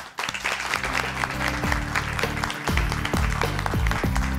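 A studio audience on a Pakistani morning television show claps steadily in a dense, sustained burst, with low musical tones thumping beneath the applause throughout.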